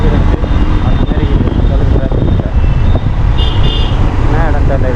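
Busy road traffic in Noida, Delhi: a dense, continuous roar of engines, tyre noise and wind buffeting, with scattered horn-like tones and voices talking over the din.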